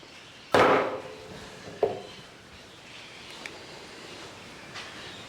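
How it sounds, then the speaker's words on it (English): Tin snips cut through Volkswagen Beetle floor sheet metal in a few sharp, distinct metallic snaps, the first loudest and a second weaker, with quiet handling noise between. "I'll just use the snips on that actually, it's not a very long distance."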